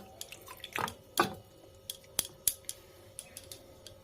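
Soaked rice, a small amount, tipped into a cooking pot, giving two brief rattling pours of grains followed by scattered light clicks and taps, close and fairly quiet with no talk.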